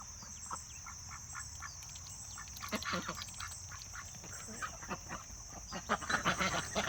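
Ducks and a newly hatched duckling quack in short, scattered bursts over a constant high-pitched hiss on a homestead, the calls growing busier and louder toward the end.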